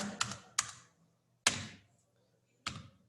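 Sparse, crisp keystrokes on a computer keyboard while C# code is written, a few separate taps and short bursts at a close, quiet distance with no talking.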